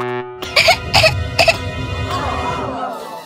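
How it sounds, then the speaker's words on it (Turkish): Three quick loud coughs from a girl at close range, a harsh rhythmic burst followed by a brief strained vocal sound fading out. "Öksürmeyi kes."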